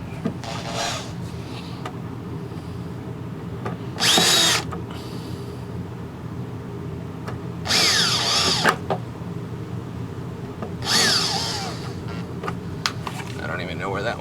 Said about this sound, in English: I've never used one of these spot weld tools